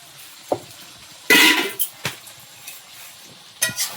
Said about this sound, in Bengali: এখন এই উনুন জ্বলছেও ভালো মাংস কষা হচ্ছে